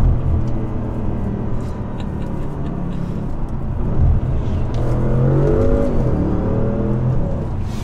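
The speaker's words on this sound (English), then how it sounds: "Some downshifts for you." An Audi S6 4.0T with a Stage 3 build revs loudly through a series of downshifts, the engine note rising and falling in quick blips over a steady, close drone with no talking.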